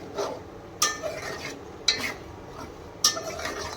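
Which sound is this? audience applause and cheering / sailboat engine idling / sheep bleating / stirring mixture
stirring mixture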